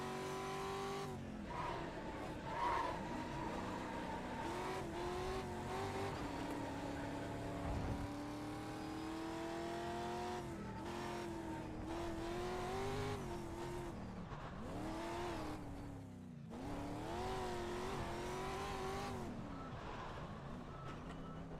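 An F1 car in the iRacing simulator at the Red Bull Ring, with a steady, loud engine drone, rising and falling revs and whining gear shifts, and long tyre-skid squeals as the handbrake is pulled.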